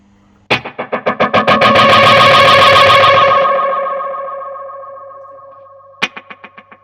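Line 6 DL4 multi-head delay pedal on electric guitar: a distorted strummed chord repeats in rapid rhythmic echoes that swell, sustain and slowly fade, followed by a second short burst of repeating delayed hits at the end; no talking.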